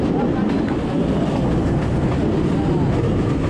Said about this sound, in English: This is one of the most beautiful train rides in the world.